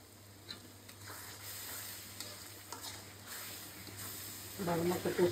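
Spice masala with yogurt stir-fried in a pan for a desi chicken roast, giving a low, steady sizzle with soft scraping stirs that grow busier near the end.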